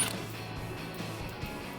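An impact driver set to its lowest setting whirs and rattles steadily while backing 8mm screws out of a Jeep Wrangler JL skid plate, a close, continuous mechanical buzz with a few ratcheting bumps.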